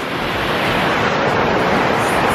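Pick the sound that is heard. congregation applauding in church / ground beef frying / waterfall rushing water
waterfall rushing water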